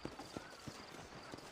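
Horse hooves clip-clop faintly at an unhurried pace in Red Dead Redemption, a few soft, distinct hoof strikes over a low ambient background.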